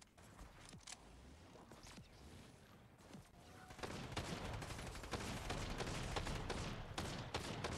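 Pump shotgun shots in Fortnite, a quiet spread of rapid sharp gunfire cracks and mechanical clicks that grows busier and denser in the second half.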